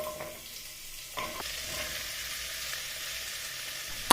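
Chopped butternut squash fries in a tablespoon of oil in an IKEA pot, a steady close sizzle with a brief clatter of stirring near the start and a sharp clink at the end.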